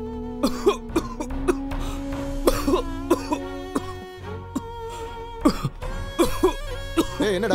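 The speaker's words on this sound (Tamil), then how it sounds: "என்னடா டிபி வந்த மாதிரி இருமுற?" A man coughs in a comedic film scene, a rough chesty hacking in repeated bursts over a loud bed of background music.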